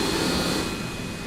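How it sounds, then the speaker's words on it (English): A Boeing 727 jet engine in the X-Plane 11 flight simulator gives a steady, loud broadband roar and whine that holds level throughout without any talking. "There goes the engine."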